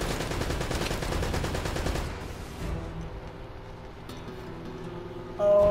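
Rapid gunfire from Uncharted: Drake's Fortune, a dense burst of repeated shots for about two seconds, then sparser scattered shots and game effects, ending in a loud thump.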